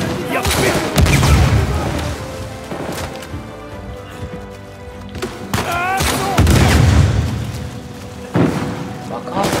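Loud, heavy explosions in the Uncharted video game, several booming blasts with rumbling debris and gunfire, a voice briefly exclaiming between them.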